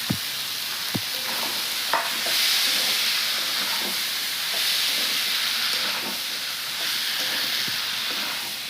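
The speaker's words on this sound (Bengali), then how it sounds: "আলু দিয়ে কিছুক্ষণ কষাইছি এখন রাজমাটা দিয়ে আর কিছুক্ষণ কষাবো" Rajma and potatoes fry and get stirred in a pan, a steady sizzle and hiss running throughout with a few sharp scrapes and knocks of the spoon against the pan.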